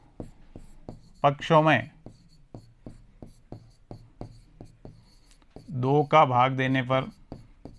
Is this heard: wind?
no